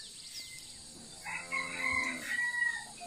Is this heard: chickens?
yes